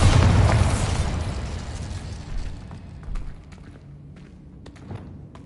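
A Bombarda spell in the Hogwarts video game sets off a big boom that decays into rumbling, followed by smaller thuds and scattered debris clicks, loud and close with no speech.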